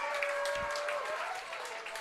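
A crowd at Hastings Stadium cheers after a leadoff single in a quarter-final baseball game between Hamilton and Guelph, a loud, sustained roar with scattered whistles, and a commentator talks over it.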